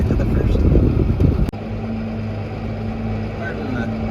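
A tractor engine growls as it drives up a hill near a hay field during baling, a steady low drone following a rumbling, noisy stretch and a sharp click.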